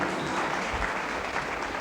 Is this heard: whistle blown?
no